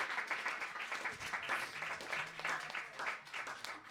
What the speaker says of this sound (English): Please do another round of applause for Dee Mulrooney